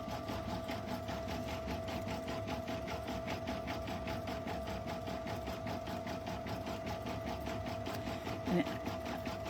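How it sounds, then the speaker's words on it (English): A home sewing machine stitches steadily at about 400 stitches per minute, a fast even whirring rattle with a constant hum, fairly quiet throughout with a faint click near the end. "I think mine's set to about 400 stitches per minute. That's my preference on my machine."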